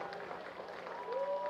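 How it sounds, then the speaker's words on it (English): Away fans at an amateur soccer match applaud as a diffuse patter of distant clapping from the crowd, under a commentator's voice, with a rising whistle near the end. "A round of applause from the road fans."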